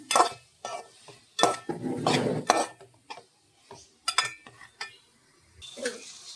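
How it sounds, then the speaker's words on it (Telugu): Boiled cauliflower goes into a biryani pot and is stirred to fry. A metal spoon clatters and scrapes in short, irregular bursts against the pan, with gentle background sizzling between strokes. "ఇందులో మనం ముందుగా ఉడకబెట్టి పెట్టుకున్న ఈ గోబీని అయితే యాడ్ చేసేసుకొని దీన్ని కూడా మంచిగా అయితే వేగనివ్వాలి"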